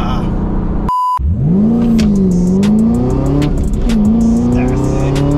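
A tuned Chevrolet Camaro ZL1 launches hard on gravel and accelerates, its engine note rising loud and close and holding through the gear, with a voice talking over it.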